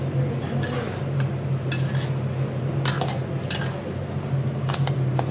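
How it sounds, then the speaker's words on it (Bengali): Masoor and mung lentils dry-frying in a pot, a low continuous crackle with scattered sharp clinks and scrapes of a spoon against the metal, fairly close and without speech. "ওই ডালগুলোকে হালকা হেঁটে ভেজে নেব আমি"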